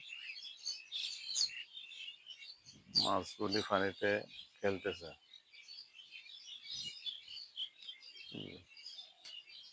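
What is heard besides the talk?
birds chirping at a farm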